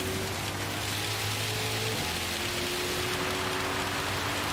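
Steady rainfall in the Gran Turismo racing game during a GR4 team touring-car race at the Nürburgring GP circuit, a constant dense hiss with a low engine drone underneath.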